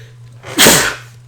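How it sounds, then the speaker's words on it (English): A man lets out one loud, close sneeze, a sharp burst over a steady low hum. "I'm going to sneeze"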